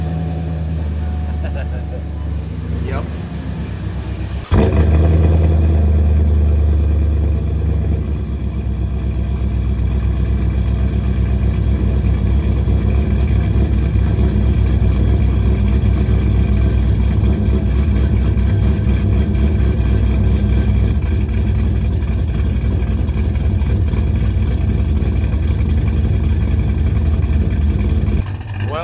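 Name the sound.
Chevrolet Silverado engine idling with Corvette exhaust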